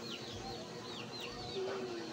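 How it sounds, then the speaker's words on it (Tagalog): Chickens cluck softly at a distance outdoors, with a few short calls rising over a steady background hum and breeze. "Manok daw."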